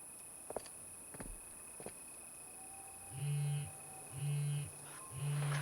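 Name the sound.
phone vibrating in a video game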